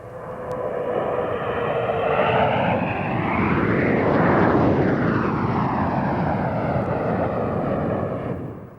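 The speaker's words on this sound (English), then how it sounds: "The Patrouille de France fly 8 Alpha jets, a twin-engined Franco-German design for training and light attack" Alpha Jet aircraft, twin-engined Franco-German trainers of the Patrouille de France, pass overhead at an air fete with a loud, sustained jet roar that swells and sweeps past, its pitch sliding as they go by.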